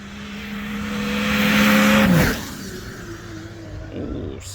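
A race car's wheels spinning as it revs hard, a loud rising engine whine that peaks and cuts off, then lower engine noise continuing at a distance.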